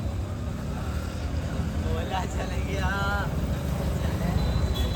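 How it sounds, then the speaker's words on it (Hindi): A motorcycle engine idles steadily after a cold start, a continuous low rumble close by, while people talk over it. "तो भाई साहब बाइक लगा दी है हमने कोल्ड स्टार्ट पे और अभी हम निकल रहे हैं यहाँ से"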